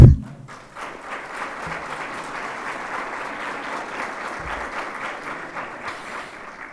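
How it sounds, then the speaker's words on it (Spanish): Audience applause at a university report presentation event, a dense, steady wash of clapping from a sizable crowd that holds evenly for several seconds. "Yo creo que podemos darnos un fortísimo aplauso."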